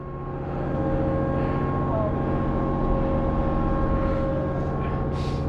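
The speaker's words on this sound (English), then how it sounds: "we're now on the first of 2 ferries" A ferry crosses on the Dempster Highway with a KTM 690 motorbike parked aboard, its engine giving a steady, loud low drone with a faint tonal hum throughout and a brief hiss near the end.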